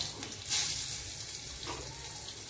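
Panch phoron spices hit hot oil alongside chili and bay leaf, a sharp sizzle bursting up at about half a second and then settling into a steady close frying hiss.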